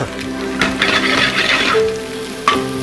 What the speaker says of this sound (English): Now, at this point we need to sear them